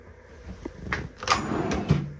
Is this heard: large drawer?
yes